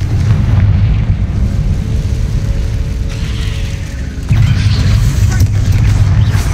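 A Confringo explosion spell goes off in Hogwarts Legacy as a loud, deep booming rumble with mechanical clatter. A second heavy blast surges up near the end.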